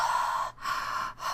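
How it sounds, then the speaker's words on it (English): Heavy, loud breathing close to a microphone, a long breath broken by two short pauses, like gasping inhales and exhales with no words spoken. "I apologize for breathing so heavily. I am a very heavy breather."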